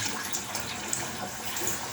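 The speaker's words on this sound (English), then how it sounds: "let's get a nice warm bowl of water going" Warm tap water runs steadily into a bowl in a bathroom before a shave, a close, even splashing rush with no talk.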